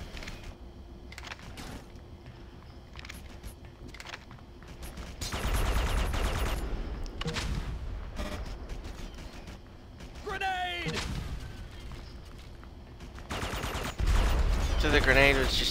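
Gunfire in the video game Red Faction 2 crackles in loud bursts and rattling volleys, mixed with explosive thuds and other game effects while people talk over the action.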